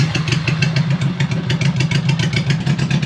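A motorcycle engine missing its muffler on one side runs close and loud, a rough, throbbing rumble with rapid pulsing beats and rattly clatter throughout.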